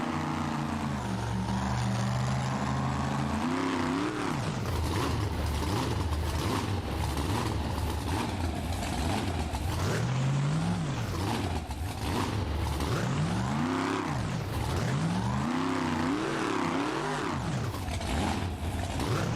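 A monster truck engine in the BeamNG driving game, at a Monster Jam car-crushing competition, revs loudly and continuously, rising and falling in repeated surges with a rough, rattling mechanical edge and no talk.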